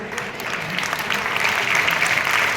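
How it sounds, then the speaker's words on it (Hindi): Audience clapping at an exam-stress motivational seminar, a steady dense patter of many hands that holds at an even level and swells slightly toward the end, with no voices over it. "ये तालियां मेरे को बिठाने के लिए बज रही है,"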